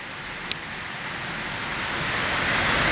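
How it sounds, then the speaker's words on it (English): A storm sets in with rain coming down like hail, a broad hiss that swells steadily louder, marked by a short sharp tick near the start. "The storm hits."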